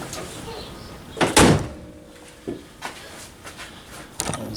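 The hood of a 1985 C4 Corvette with a 5.7L small-block V8 is lowered and shut, giving a loud close thump with a creaking hinge, then a few lighter knocks and clicks.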